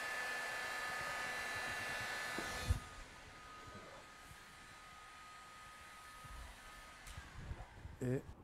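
Heat gun blowing a steady loud airflow hiss over vinyl car wrap, close, then cutting off, leaving quieter room sound with some handling noises.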